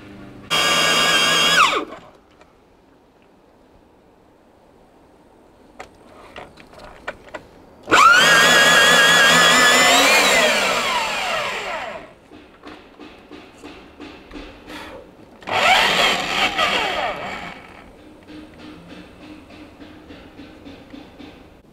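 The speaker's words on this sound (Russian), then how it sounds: "берем такое вот винтовое сверло диаметром 50-52 миллиметра" Three loud bursts of a 50–52 mm auger drill biting and grinding through cedar log wood, with quieter mechanical clatter between bursts.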